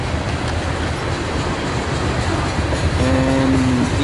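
Freight train cars of train 420 roll past steadily and close by on a late-fall day, with a continuous broadband rumble and clatter of wheels, then a brief squeal toward the end.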